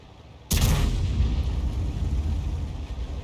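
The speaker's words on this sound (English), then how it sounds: "somebody's firing on him, a Panzer IIIJ up ahead" A Panzer III J tank gun fires in World of Tanks, one sudden loud blast that rolls into a long, heavy rumbling tail, close by and with no voices over it.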